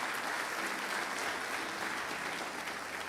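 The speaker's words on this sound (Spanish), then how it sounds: "Si le va a dar un aplauso" A church congregation applauds during a pastor's sermon, a sustained, even roar of many hands clapping at moderate volume, heard somewhat distantly.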